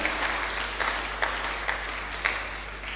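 A church congregation applauds during a sermon: a sustained, fairly distant patter of many hands clapping together, with a few sharper claps standing out, over a low steady hum.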